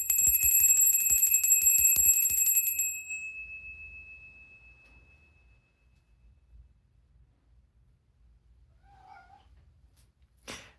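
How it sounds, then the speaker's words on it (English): A small bell rings in a rapid series of bright metallic dings for about three seconds, then decays into a long fading shimmer. A faint cat meow follows after a pause in the otherwise quiet room. "he always tends to meow after I ring the bell"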